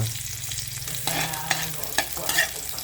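Oil sizzles steadily in a pan while sautéed eggplant is being made, a close, constant hiss with a few light clinks of stirring.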